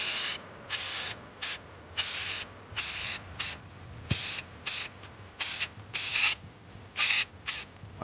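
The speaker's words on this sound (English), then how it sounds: "Just start spraying." Aerosol can spraying undercoating inside the fender well of a Crown Vic P71, a string of about fourteen short, close hissing bursts with brief pauses between them and no talking.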